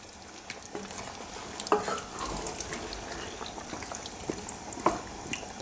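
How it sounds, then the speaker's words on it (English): Beef broth poured into a veal stew with potatoes and stirred in, giving soft liquid sloshing and wet scraping clicks at close range, with a few sharper knocks of the spoon against the pot. "start off by adding about 2 cups of beef broth"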